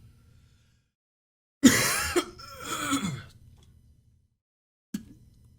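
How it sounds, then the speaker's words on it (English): A person coughs and clears their throat in a short, close burst of harsh coughs, followed by a single smaller cough after a pause, in an otherwise quiet room. "That's why I'm coughing."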